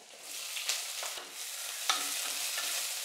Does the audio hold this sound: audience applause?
no